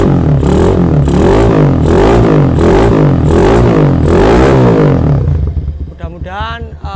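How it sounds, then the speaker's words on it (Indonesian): A Honda CG110 motorcycle engine runs loud and close with a pulsing, rhythmic exhaust beat, then drops off as a voice speaks near the end. "Terus ini untuk nyala mesinnya."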